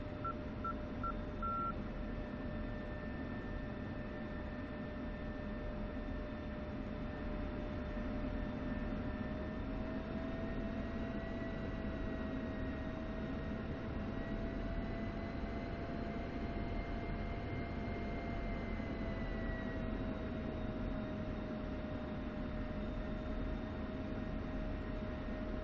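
Aircraft in the DCS flight simulator taxiing, a faint, steady jet whine with sustained tonal hum and slowly drifting pitch, plus a brief series of beeps near the start; no voices.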